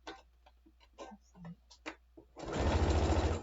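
A sewing machine stitches quilt pieces together for convergence quilting, starting after a stretch of quiet ticking and faint handling noises and then running as a steady, close, fairly loud mechanical whir to the end.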